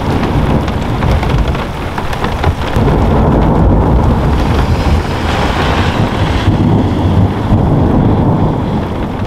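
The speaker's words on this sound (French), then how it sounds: "c'est un peu le déluge dehors, il pleut, il y a de l'orage" Heavy rain and a thunderstorm in the mountains near a pond, loud dense rain pounding a surface with rolling thunder and wind buffeting the microphone throughout, no voices.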